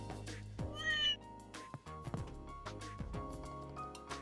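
A cat in the video game Trails in the Sky gives a short meow near the start over a soft, plucked game music track, with no voices.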